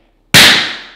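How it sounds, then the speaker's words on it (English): A phone in a protective case hits a hard surface in a drop test, making one sharp, loud impact after a moment of silence, with a short ringing decay. "we're gonna do a drop test now"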